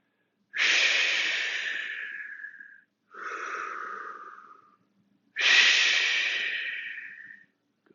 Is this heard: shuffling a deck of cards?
no